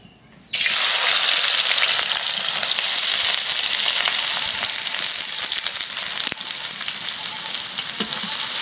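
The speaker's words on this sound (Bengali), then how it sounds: "আগে পেঁয়াজগুলি ভাইজে দিই না।" Onions frying in soybean oil in a kadai, a loud steady sizzle that starts abruptly and continues without a break, with no talking.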